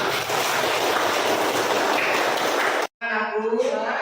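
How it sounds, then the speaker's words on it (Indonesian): Classroom applause for everyone: a dense, even wash of clapping that fills nearly three seconds, then cuts off abruptly before a voice speaks. "tepuk tangan untuk kita semua"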